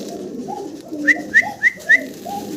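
A pair of Lahore pigeons, one blue bar and one black, coos softly and close by, with a few short bright chirping notes rising over the low burbling.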